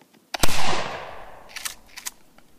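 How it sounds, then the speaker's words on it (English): A loud, sharp gunshot in a video game shooting test is followed by a long decaying tail, then a few fainter cracks at a distance. "Wow, very accurate headshot, Doomton."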